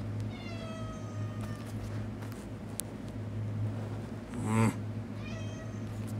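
A house cat gives several meows: a long wavering cry at the start, a sharper, louder yowl near the middle, and a softer meow at the end, all close and over a steady low hum from a bowling game.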